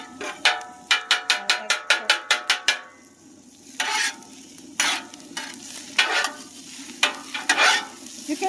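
Hibachi fried rice frying in oil over medium heat, with a rapid series of sharp metal spatula taps against the griddle early on, then scattered scraping strokes over a steady low sizzle, close and moderately loud.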